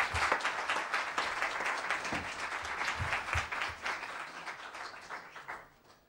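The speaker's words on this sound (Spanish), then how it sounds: "ahora les pido un fuerte aplauso para recibir al protagonista" An audience at a book presentation on Equatorial Guinean migrant networks breaks into sustained applause, dense clapping that carries on evenly and then fades away near the end. No one speaks.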